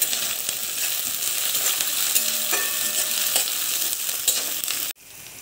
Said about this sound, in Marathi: कांदा गोल्डन होतपर्यंत आपण शिजवून घेऊ।